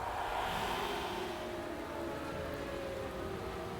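Rain in the racing management game Motorsport Manager, a steady broadband hiss of falling rain with a faint engine-like hum beneath, constant and moderately loud throughout.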